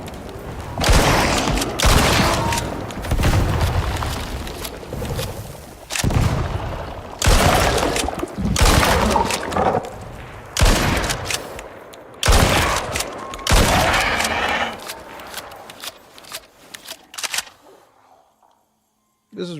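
Rapid bursts of gunfire from the video game Icarus, loud and repeated in clusters of shots with short gaps, ending in quiet near the close.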